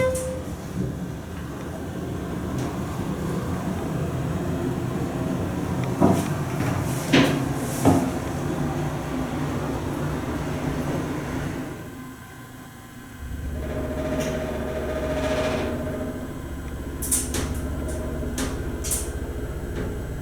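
A running elevator hums and rumbles steadily, with scattered clunks and knocks from the cab, a brief dip in the drone, then a lower, heavier hum as it keeps moving.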